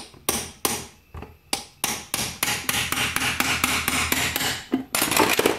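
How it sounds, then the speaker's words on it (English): A small metal punch strikes and pries at a T5 World Class transmission cover to crack its sealant loose, giving a run of sharp metallic taps and knocks, irregular at first then in quicker succession, close and loud. "Now I have a little punch that I use to get in here"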